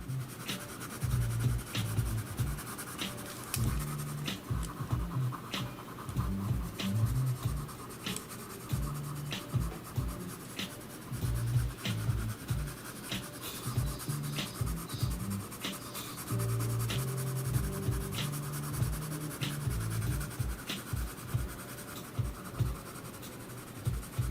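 Coloured pencil drawing on paper for a fantasy landscape, with steady scratchy strokes that repeat in short bursts close to the mic throughout, at a moderate level and with no one talking.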